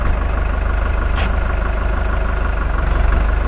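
A 2021 Farmtrac 6055 T20 Powermax tractor engine runs in third gear at low speed, a loud, close, steady low rumble with an even throb and no talking.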